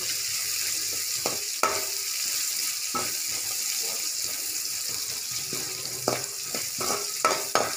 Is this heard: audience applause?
no